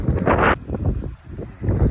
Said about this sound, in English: you can tell it's windy out